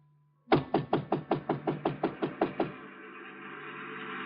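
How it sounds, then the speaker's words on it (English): About a dozen evenly spaced, firm knocks strike a door in a radio drama, close and sharp, then fade into a low steady background hum. "and I knocked on the door."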